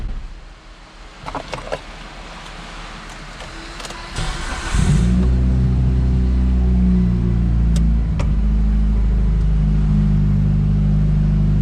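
A Subaru BRZ drift car is being parked, with a few faint clicks and shuffles first, then the engine fires and settles into a loud, steady, close idle rumble that holds to the end.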